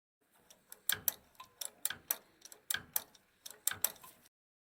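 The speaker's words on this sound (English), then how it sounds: "Check and notice the switch sound." Sharp, crisp clicks from the switch on an SPM iPRO slush machine after a gear motor replacement, sounding in quick irregular pairs and clusters, close and clear in a quiet room.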